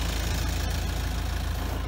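A small Kubota tractor fitted with a grapple bucket and rear silage board idles steadily on a farm, a continuous low, even engine rumble running throughout with no voices.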